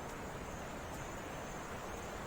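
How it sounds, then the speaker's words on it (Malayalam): Marmala waterfall near Theekoyi pours steadily, a continuous broadband rush of falling water that stays even and unbroken throughout, with no voices. "ആ കാണുന്നതാണ് നമ്മുടെ മാർമല വെള്ളച്ചാട്ടം."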